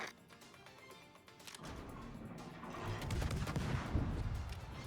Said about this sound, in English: Do not be afraid to use your guns in Asashio